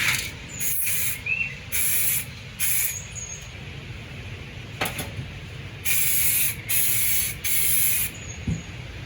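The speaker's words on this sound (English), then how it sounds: "we're going to go ahead and spray our second coat and hope that we catch everything we need to" An aerosol can hisses out a second coat of spray during a square-body truck's LS engine swap, several bursts of loud steady hiss lasting about a second each with quiet gaps between, close by.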